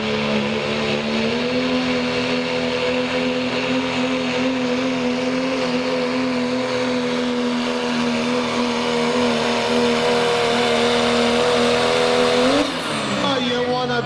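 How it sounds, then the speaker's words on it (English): A diesel pickup with a P-pump and 12-valve head roars at full throttle during a truck pull, a loud sustained engine note that holds steady then drops sharply near the end, with crowd and announcer noise behind. "They are ripping trucks."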